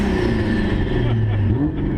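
A Nissan RB single-cam inline-six engine revs hard toward 9,000 RPM with a rising, sweet mechanical note, loud and close, with a steady throaty drone underneath.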